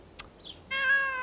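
A cat being chased by Pippin gives one clear, drawn-out meow near the end, preceded by a couple of faint small sounds, in an otherwise quiet room.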